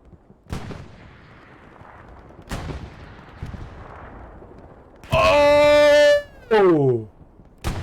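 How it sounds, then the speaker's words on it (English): Artillery strikes in the World War II shooter Hell Let Loose, during a competitive match: a few sharp distant booms spaced seconds apart, then loud sustained tonal bursts near the end, with faint background noise. "Nice artillery hit over here on the west side, east side of the point."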